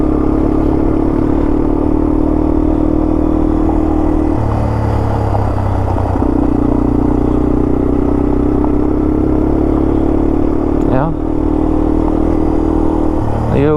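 A Yamaha TW200 single-cylinder dirt bike drones loudly and close on a dirt road near Woodland Park, Colorado, holding steady low revs with small shifts in pitch and some clattering from the rough ground.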